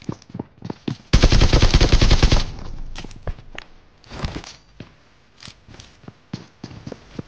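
Rapid bursts of automatic gunfire from the Beam Blast ACE32 in PUBG Mobile, one long loud volley followed by scattered single shots and short taps, with light footsteps between them and no talking.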